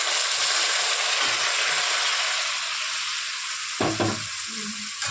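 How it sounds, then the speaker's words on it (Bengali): Spices fry in a pan with a bright, steady hiss and sizzle, and a short burst of clatter and spluttering follows as a little water is added. "একটু অল্প করে জল দিয়ে দেবো।"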